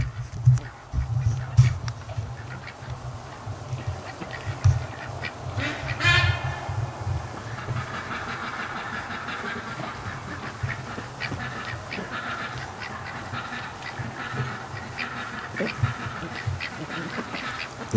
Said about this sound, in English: They're crazy ducks.